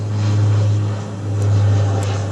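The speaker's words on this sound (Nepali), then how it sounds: "प्लेन उडेको छ" A propeller airplane drones overhead above a picnic spot at Kakrebihar in Surkhet, western Nepal, as a steady low hum that swells, dips briefly and swells again, heard alone.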